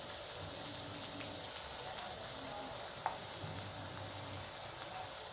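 Onions fry in a pan on full gas for a Marathi-style vegetable dish, a quiet, continuous sizzle with faint crackles and one brief sharp click near the middle, with no talking.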